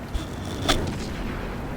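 A single loud, sharp cannon blast from a tank in the World of Tanks video game, close and abrupt, with a short rumbling tail.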